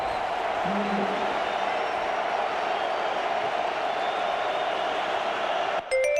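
Crowd noise at a college football stadium during a Michigan State at Michigan game, a steady roar of the crowd with the student section building before a third down, continuous and broad, with a brief cut near the end.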